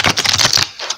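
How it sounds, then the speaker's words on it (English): A deck of tarot cards is shuffled close up, a loud, fast, papery riffle of rapid flicks that stops briefly and then starts again. "Do one more shuffle to make sure we are mixed up nice and good."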